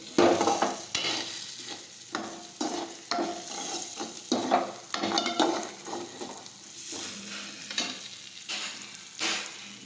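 Crushed peanut powder sautés in a pan with repeated spoon strokes, each stir bringing a scraping swell of close sizzling that recurs in an irregular rhythm.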